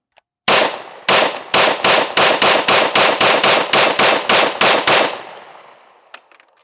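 Fourteen loud, sharp pistol shots from a Sig Sauer compensated carry handgun at an outdoor range, fired in a quick steady string, first two spaced apart then evenly paced, each with a brief ringing tail, with no talk.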